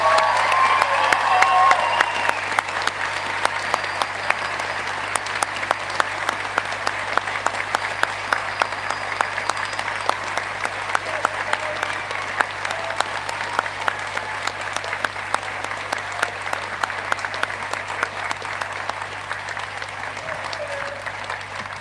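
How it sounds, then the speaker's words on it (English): A final round of applause for graduates at a university graduation ceremony, a long, even wash of clapping from a large hall audience with faint cheers, sustained throughout. "let's raise the roof with one final round of applause to congratulate our graduates"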